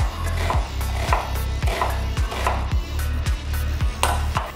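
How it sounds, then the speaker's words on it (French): Knife chopping spring onion into small pieces on a cutting board, a steady series of firm, regular chops at close range with no talking. "Puis je détaille mon oignon, c'est de l'oignon nouveau encore, il y en a encore. Je le coupe en petits morceaux."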